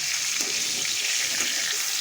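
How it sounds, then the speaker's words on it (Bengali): Soft vegetables such as pumpkin pieces frying in oil, giving a dense, even hiss that holds steady throughout at close range. "এই জন্য একটু ভেজে উঠিয়ে রাখছি"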